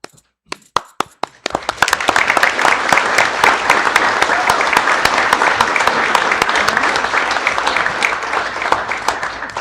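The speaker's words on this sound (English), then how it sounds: "We clap." Audience applause in a city council chamber during a fire and police commission swearing-in: a few scattered individual claps at first, then a sustained, dense round of clapping that holds steady and fairly loud to the end.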